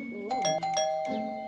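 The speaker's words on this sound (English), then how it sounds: "Ah, who's ringing the bell?" A two-tone ding-dong doorbell chimes twice inside the Scary School Teacher video game, clear and close, with ringing tones that hold between strikes.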